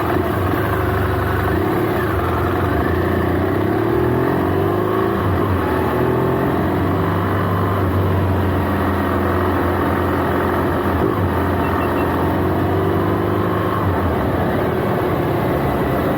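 A motorcycle engine drones steadily while riding toward home on an Italian motorway near Milan, a continuous loud rumble with slight shifts in pitch and no speech.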